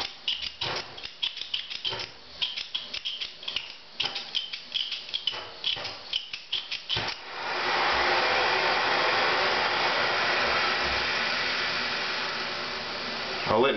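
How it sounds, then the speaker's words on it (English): A gas burner lit with a flint or barbecue lighter: choppy ticking and clicking bursts at first, then a steady loud roaring hiss of flame that holds evenly to the end. "I'll let my flame burn at about that heat, not full blast and not really low"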